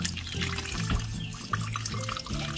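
A weak, thin stream of tap water runs steadily into a sink during household washing, with a soft continuous trickle and faint drips close by.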